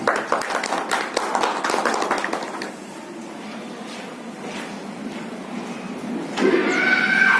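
An audience claps at a school inauguration ceremony, a dense burst of many hands that fades after a few seconds into a steady room hum, with another brief rise near the end.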